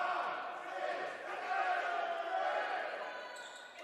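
Crowd noise fills a gym during a women's college basketball free throw between Kalamazoo and Albion, a steady murmur of cheering and chatter that swells and dips with a few voices rising over it.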